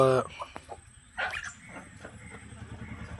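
Free-range country chickens at a poultry farm cluck and call in short bursts, with a louder squawk near the middle, over a steady low murmur of the flock close by.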